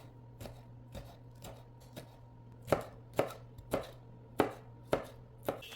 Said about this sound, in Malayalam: ചെറിയ രീതിയിൽ വേണം ഇഞ്ചിയൊക്കെ ചോപ്പ് ചെയ്തെടുക്കാൻ വേണ്ടിയിട്ട്.